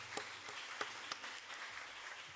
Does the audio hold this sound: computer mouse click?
no